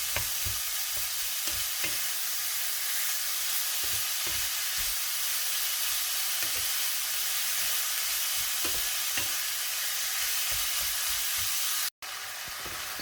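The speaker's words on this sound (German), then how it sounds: "dann 500 Gramm Hackfleisch dazugeben und wieder ganz kurz anbraten" Minced meat sizzles in a frying pan with a steady hiss, while a utensil stirs and scrapes at intervals; there is a brief cut near the end.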